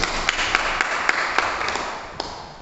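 A church congregation applauds the Lord, clapping in a steady rhythm with sharper accented claps standing out above the dense, roomy sound of the crowd.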